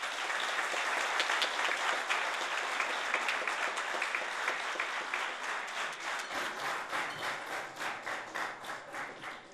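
An audience applauds after a speech at a Macedonian debate event, with dense, sustained clapping that fills the hall and thins toward the end as individual claps grow more distinct.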